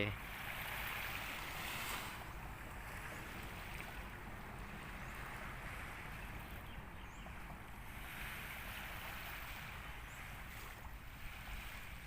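Waves wash steadily onto Bangsaen beach in Thailand on a weekday, a constant broad surf rush with gentle swells and no voices.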